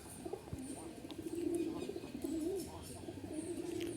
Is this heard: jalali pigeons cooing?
yes